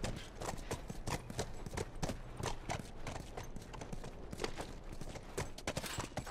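Horse hooves clip-clopping in a steady walking rhythm in The Last of Us, a continuous run of distinct hoof strikes, moderately close and fairly quiet.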